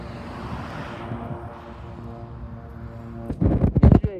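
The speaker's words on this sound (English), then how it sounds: "And here comes another airplane." A jet airplane passes close by a railway line in Seattle, a steady broad roar with droning tones that fades slightly before a burst of loud, rumbling bangs near the end.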